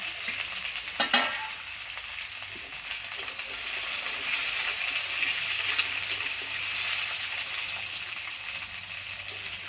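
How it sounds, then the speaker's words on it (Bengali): Potatoes and drumstick pieces fry in hot oil with a steady, dense sizzle that stays even and fairly close throughout, with a few faint clinks of a utensil. "এই যে আলুটা সজনাটা একটু ভেজে নিয়েছি"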